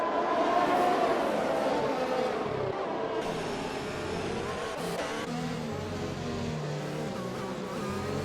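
Race cars in a realistic racing video game round at Brazil, engines whining close together through an overtake, a steady loud engine drone with shifting pitch, the cars running near and alone without voices.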